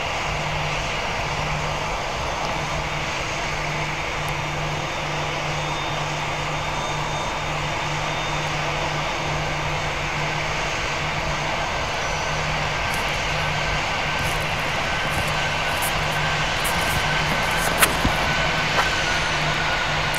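Engines of a Boeing 737 in a flight video game drone loudly and without a break, with a low steady hum under them and a few faint clicks near the end, and no talk.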